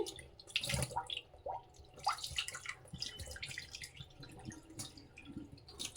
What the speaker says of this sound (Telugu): ఇక్కడ ఫస్ట్ వాటర్ పోస్తా చూడండి. ఇక్కడ నుంచి నాకు ఇక్కడ ఎక్కువ లీకేజ్ ఉంది ఈ సైడ్లకి.